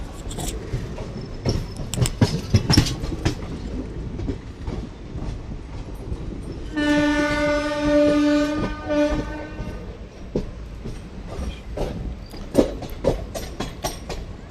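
The 07664 Jalna–Parbhani Festival Special pulls into platform 1 at Partur station, a steady rumble and wheel clatter broken midway by one long, loud horn blast lasting about three seconds.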